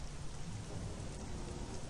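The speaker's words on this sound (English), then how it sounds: "This rain's like acid." Acid rain pours steadily in Star Wars Jedi Knight: Jedi Academy, a dense, even hiss with a rumbling thunder undertone that continues without a break.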